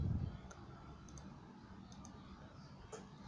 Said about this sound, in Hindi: अपने ओरिजिनल पिक्चर पे क्लिक करना है।